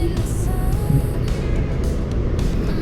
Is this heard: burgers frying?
no